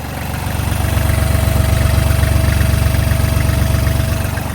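A Kubota GL-241 four-wheel-drive tractor with a three-cylinder 25 hp engine and 900 hours of use idles close by, giving a steady, loud, throbbing low rumble with an even pulse and no voices.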